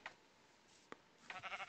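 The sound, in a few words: cow mooing in Minecraft video game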